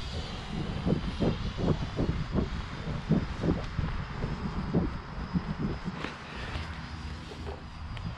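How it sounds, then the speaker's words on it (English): An F-16 fighter jet flying past over an airfield, a steady distant roar of engine noise with a rough, pulsing texture that holds throughout, fairly faint and without voices. "Yeah, it's an F-16."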